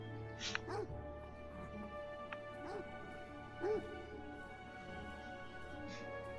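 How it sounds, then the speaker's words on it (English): A dog in the video game Beyond Eyes gives several short yips and whimpering barks at a moderate distance, spaced a second or so apart over a quiet ambient game background. "See, I can't get any closer to that dog."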